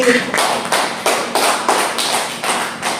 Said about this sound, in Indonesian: Mungkin beri tepuk tangan dulu